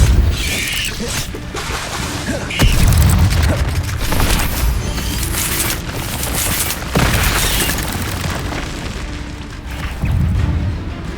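Spell blasts from Hogwarts Legacy, a video game, thump out as repeated loud booms at an irregular rhythm, with broad crackling bursts layered over continuous game noise and effects.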